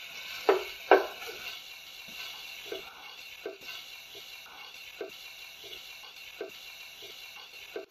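Garlic frying in a pan for homemade tomato pasta sauce, a faint steady sizzle with a couple of sharp stirring knocks early and soft periodic scrapes afterward, no voices.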